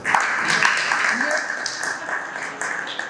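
An audience claps after a speaker at a Marathi literary interview event, a scattered round of applause running throughout under an ongoing voice.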